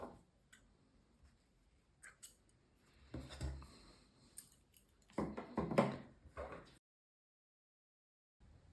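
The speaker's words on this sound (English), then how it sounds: "cut the yarn" Scissors snip through crochet yarn in a few short, crisp cuts, close by and quiet, with light handling noises around them.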